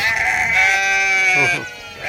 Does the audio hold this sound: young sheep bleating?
yes